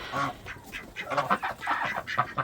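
Geese honk in loud, rapid bursts while chasing turkeys around a farmyard, a close, overlapping run of harsh calls.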